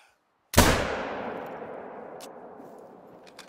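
A single hunting rifle shot in theHunter: Call of the Wild: one sharp, loud crack after a brief silence, followed by a long echoing tail that slowly fades away.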